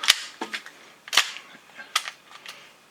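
Airsoft pistol fitted with a UAC aluminum nozzle valve firing several sharp, snappy shots in an irregular sequence, close to the microphone, with a few softer clicks between them and no talk.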